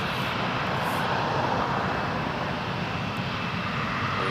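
Air Canada Jazz Embraer 170 jet taking off at Toronto Pearson Airport, a loud, continuous engine roar and rush heard from a distance, steady throughout without breaks.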